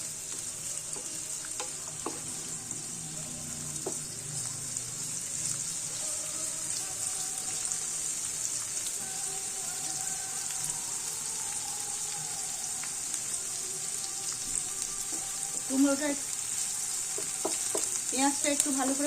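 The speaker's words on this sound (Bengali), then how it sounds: "পেঁয়াজটাকে ভেজে নেবো।" Onions frying in oil in a pan for a pumpkin mash, a soft continuous sizzle with a steady high hiss, faint stirring clinks and a few brief spoken words near the end.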